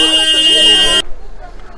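A taxi's loud, sustained car horn blares for about a second on the road to Lansdowne, India, then cuts off, leaving quiet background noise.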